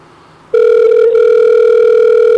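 Landline telephone sounding a single steady electronic tone that starts abruptly and holds loud and close, with no voices.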